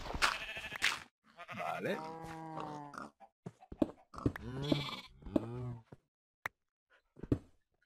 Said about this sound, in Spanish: Voy a dar una leche a la oveja que va a flipar